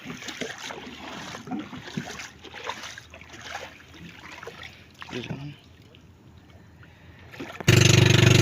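A small fishing boat setting out to sea, with water sloshing and trickling against the hull and intermittent knocks and splashes, then a sudden loud burst of engine or wind noise at the end; voices are heard.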